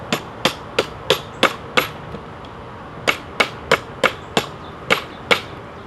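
Frost Commando Elite knife hacking into wood in a series of sharp, close chopping impacts, in two quick bursts of about six strikes each separated by a short pause.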